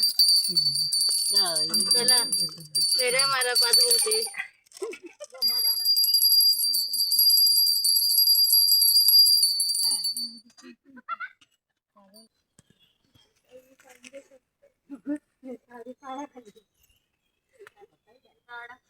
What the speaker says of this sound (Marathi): सर्वांनी पूजा करा घंटी वाजवा निवेद्य दाखवा